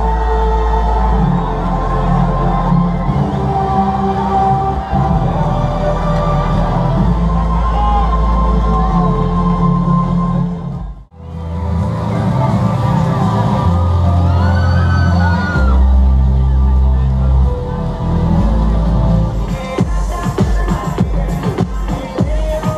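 A pageant crowd cheers, whoops and shouts over loud music, with a brief drop partway through before the noisy celebration surges back.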